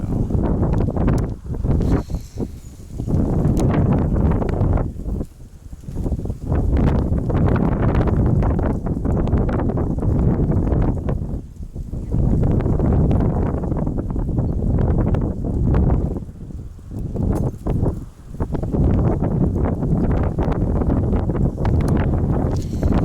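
Strong wind gusting outdoors while fishing, buffeting the microphone in loud, rumbling waves with brief lulls across more than twenty seconds, with no talking.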